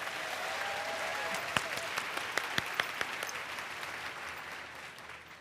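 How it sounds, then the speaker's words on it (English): An audience claps steadily in a dense wash of applause, with a few sharper individual claps standing out before it gradually tapers off. "Could we give her a round of applause"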